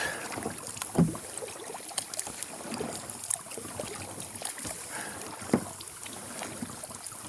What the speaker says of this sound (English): Never been out here on a kayak before.